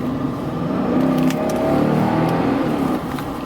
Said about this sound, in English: That was a nice upshift and a nice downshift